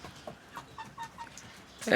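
A rooster in a backyard bird flock gives soft, scattered clucks at a moderate distance, with a louder burst of sound at the very end.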